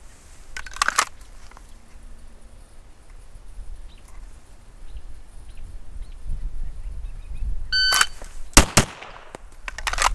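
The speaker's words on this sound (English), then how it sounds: "Okay, now live fire with the Legion." Live fire from a Legion pistol: a quick cluster of sharp, loud shots near the start, then a quiet stretch of low rumble, then another tight burst of shots late in the clip.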